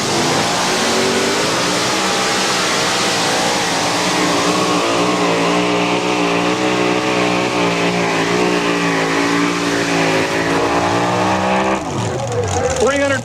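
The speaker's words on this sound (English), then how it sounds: "640 cubic inches of Keith Black motor coming at" A 640 cubic inch Keith Black motor roars loud and sustained at a two-wheel-drive truck pull event, with revving pitch shifts near the end, under an announcer talking over it.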